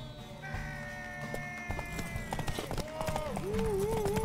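A horse gallops in a race in The Witcher 3, its hoofbeats thudding in a quickening rhythm beneath game music and mixed ambient noise, with a brief high whinny-like tone toward the end.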